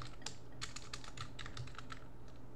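Quiet, rapid typing on a computer keyboard while designing in Figma, a steady run of soft light keystrokes with no talking.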